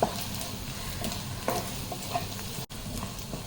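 Spices and salt are stirred around a frying pan for a fish roe dish, with a soft, continuous sizzle and a few scraping strokes close by.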